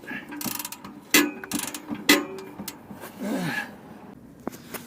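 A ratchet wrench clicks and spins on a seized exhaust clamp while an exhaust back box is fitted to a Vauxhall Combo van, with sharp metallic clacks and bursts of rapid clicking up close.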